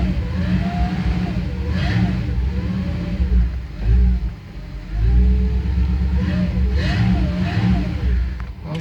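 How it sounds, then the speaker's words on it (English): A 1962 Chevy Impala Sports Coupe engine idles loud and close, its rough running broken by several rising and falling revs, with a brief dip before the engine picks back up. "I am gonna let it warm up for just a minute."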